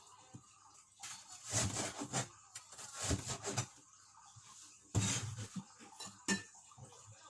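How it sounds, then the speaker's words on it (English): A knife slices meat into small pieces on a cutting board for a Chinese home-style stir-fry, quiet intermittent taps, scrapes and light clinks spaced over several seconds. "we cut a small piece, slice the meat"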